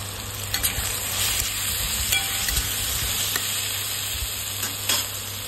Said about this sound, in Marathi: आता याच्यामध्ये कटिंग केलेला बटाटा टाकून घेऊया